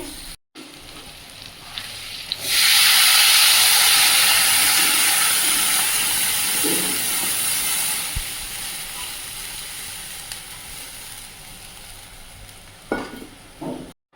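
Water poured into a pan of fried banana and potato curry bursts into a loud, broad hiss that holds steady for several seconds, then slowly fades to a softer bubbling simmer.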